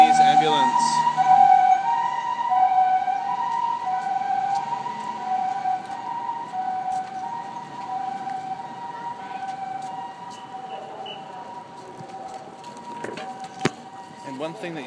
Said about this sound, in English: Japanese ambulance.